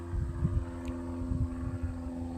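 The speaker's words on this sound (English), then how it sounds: "Of course, there's a plane." An airplane flies overhead outdoors, a steady low droning hum that holds throughout at fair loudness, with a few faint rustling bumps underneath.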